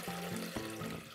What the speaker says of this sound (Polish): Do środka, do urządzenia wlewamy wodę.